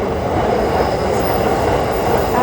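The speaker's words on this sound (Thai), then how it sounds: "การขึ้นรถไฟ" A train running on rails in Japan, a steady, loud broadband rumble throughout with no pauses, carriage noise filling the whole stretch.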